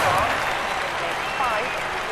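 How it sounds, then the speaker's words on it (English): Crowd applause in the London 2012 Olympic Games video game, a steady wash of clapping from a stadium audience, heard together with live commentary voices. "quite rightly he gets the accolades of the crowd"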